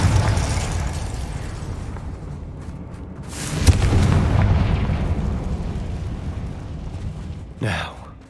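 A Confringo fire spell explodes in Hogwarts Legacy with a sharp burst and a rumbling boom that swells and slowly fades, followed moments later by a second softer whoosh, over a low background bed.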